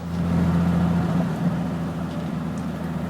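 A Triumph GT6 engine hums steadily from inside the car on a test drive around the block, a low, constant drone with only slight changes in pitch and no talk.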